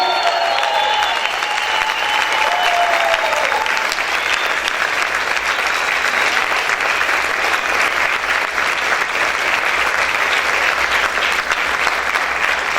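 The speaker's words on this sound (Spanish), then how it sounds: "Grite y aplaude fuerte al Rey." A church congregation at a Spanish-language worship service claps and cheers loudly in praise, a thick continuous roar of applause with shouts mixed in, sustained at full strength for the whole stretch.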